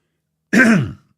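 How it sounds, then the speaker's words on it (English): A single short, close throat clearing, a rough guttural burst lasting about half a second. "I've got this annoying cough."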